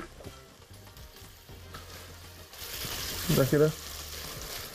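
Potatoes and onion fry in a large pan full of hot oil, giving a steady close sizzle that swells slightly partway through, while a voice talks briefly over it.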